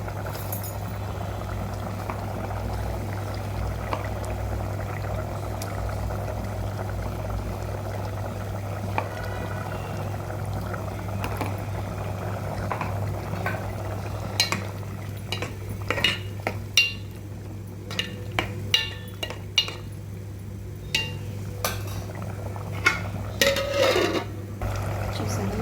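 Raw prawn curry bubbling steadily in a pot, a continuous close simmering boil with a low hum, joined later by scattered light clinks and taps of utensils against the pot.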